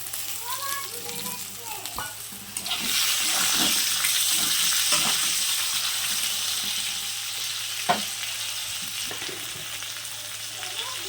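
Fried pointed gourd pieces go into a pan of hot oil. A quiet background gives way to a loud, steady sizzle partway through, with occasional clinks of stirring over the frying.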